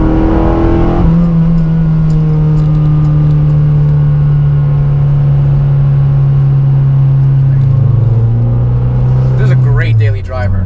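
A 9th-generation Honda Civic Si accelerates through its gears, its engine drone rising steadily in pitch. Near the end the revs drop sharply at a gear shift. The cabin engine sound is loud and continuous.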